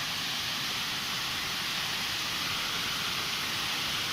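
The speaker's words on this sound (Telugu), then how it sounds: "ఆ గుట్ట పైన నుంచే వాటర్ అనేది పడుతుంది." A waterfall pours down from a hill in Mancherial, giving a steady, dense broadband roar of falling water that stays constant throughout, with no other sounds.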